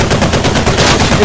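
Rapid automatic gunfire in a shooter video game, a loud continuous burst of repeated shots filling the whole moment with no pauses.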